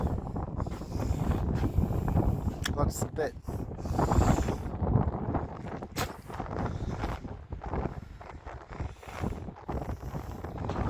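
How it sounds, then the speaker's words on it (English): Strong wind on a hilltop buffets the microphone in loud, gusting rumbles that rise and fall throughout, with a voice speaking briefly over the roar. "It's really windy up here."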